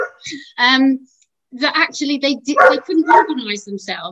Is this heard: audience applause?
no